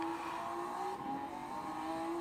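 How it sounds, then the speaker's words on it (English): Tyres squealing on the 2008 number 64 Honda NSX Super GT500 at Fuji International Speedway, a sustained thin squeal over the steady drone of the race car's engine from onboard. "you can hear the tyres squealing"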